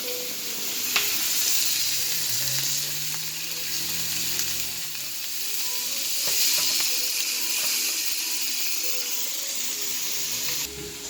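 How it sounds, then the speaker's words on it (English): Pork tenderloin searing on the grill, a steady close sizzle and hiss throughout with a faint low hum and a few small clicks, no voices. "I still have my pork tenderloin grilling"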